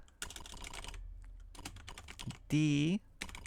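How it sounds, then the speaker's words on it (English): Keys clatter in a steady rhythm of rapid clicks on an Atari computer keyboard, broken by a short electronic beep, with quiet talk in the background. "let's type this line"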